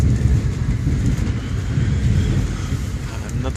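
A passenger train travelling through Quebec rumbles steadily, with a dense, low roar of wheels on rails and car noise heard from inside, continuous with no talking.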